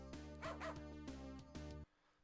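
A video game dog gives a run of short, sharp barks over a humming game soundtrack, the bursts repeating at an irregular pace before everything cuts off abruptly into near silence.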